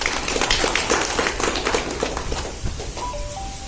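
An audience at a National Safety Day event bursts into dense, rapid clapping from many hands, loud and close at first, then thinning and fading toward the end as a faint tone appears.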